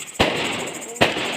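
Two sharp Diwali firecracker bangs burst close by in a hill-town celebration, spaced under a second apart, each with a short crackling tail over a steady background hiss.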